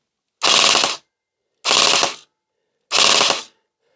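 An A&K MK46 nylon airsoft machine gun, run on an 11.1 V battery, fires three separate full-auto bursts of rapid mechanical rattling, each about half a second long with brief silence between, close and loud.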